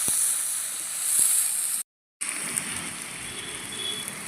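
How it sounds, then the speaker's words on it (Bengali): Cut potatoes frying in a little oil with cumin seeds already toasted in the pan, giving a steady close sizzling hiss that cuts out briefly in the middle and then resumes. "আলুটা একটু ভালো করে ভেজে নেব"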